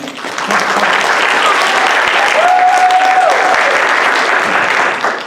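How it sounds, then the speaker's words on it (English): At the Miss VietFest pageant finale, an audience applauds for Alice, steady, full-bodied clapping from a crowd that holds at an even level for several seconds, with a faint tone briefly audible within it. "please give a round of applause for Alice"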